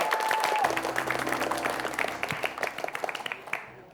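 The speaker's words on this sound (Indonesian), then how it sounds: "berikan tepuk tangan untuk Regu B" A studio audience applauds a quiz team on an Indonesian TV quick-answer quiz show, a dense burst of clapping that thins into scattered claps, with a brief tone at the start and a voice under it.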